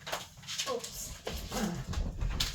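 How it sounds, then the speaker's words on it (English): A puppy nearly 11 months old scrambles around chasing a toy, giving busy patter, soft whimpers and thumps throughout under a person talking. "it's the puppy dog, who's nearly 11 months old, is just running around having a mental one, chasing his toy"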